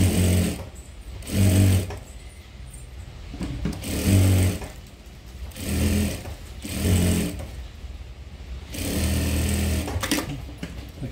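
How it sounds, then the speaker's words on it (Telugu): A sewing machine stitches along the edge of a paithani saree blouse, running in repeated short bursts of whirring and thumping separated by brief pauses, close and fairly loud. "ఇప్పుడు ఎడ్జ్లో ఒక కుట్టు కినారి స్టిచ్ చేసుకునేసి"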